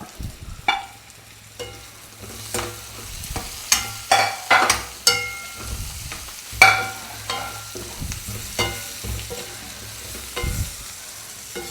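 Curry leaves crackle in hot oil with softened onions for a Kerala-style mutton stew, heard as a low sizzle broken by sharp, irregular pops and spatters.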